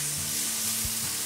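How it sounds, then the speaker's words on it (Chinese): Cubes of pork belly pan-fry over high heat in a hot wok, giving a steady, close, continuous sizzle with no talking. "咁一路开住大火煎佢先，煎佢都 OK 嘅"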